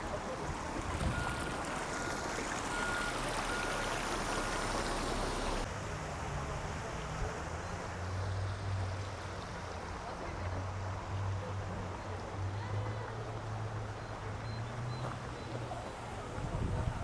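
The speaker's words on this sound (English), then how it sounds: "The flowing water sounds really nice as well." A river stream flows through a Cotswolds village in England, a steady broadband rush of water running continuously, with a low rumble and faint background voices mixed in.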